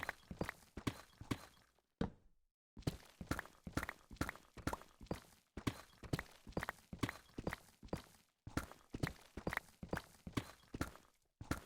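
A horse walks in a video game, its hooves making a close, steady clip-clop that continues for several seconds with a couple of brief pauses.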